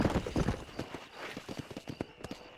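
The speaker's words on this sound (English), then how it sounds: "Let me get on the horse." Rapid hoofbeats of a horse in the Red Dead Redemption video game, a quick clip-clop rhythm that starts loud and close, then carries on as lighter, evenly spaced steps, with no talk over it.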